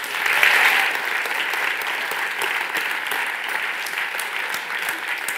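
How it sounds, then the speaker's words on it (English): Steady applause from an audience at a startup demo day awards moment, loud and dense throughout, swelling briefly at the start before holding at an even level. "please do keep the clap going"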